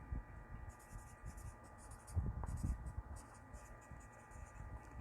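A pen scratches steadily across paper, close and quiet, in irregular strokes with short pauses and a faint background hum.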